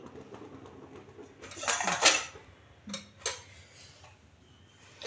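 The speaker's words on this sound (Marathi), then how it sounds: "कढईमध्ये सर्वप्रथम 2 पळी तेल टाकून घ्यायचं आहे." Two ladles of oil go into a kadhai on the stove, heard as a short splashing pour with metallic clinks of the ladle against the pan, followed by a couple of quieter taps.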